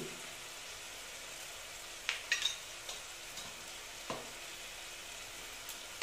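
Chital fish curry masala with sugar is being sautéed in a pan, giving a steady soft sizzle with a few sharp clinks and scrapes of a stirring spoon, moderately quiet and close, with no talking.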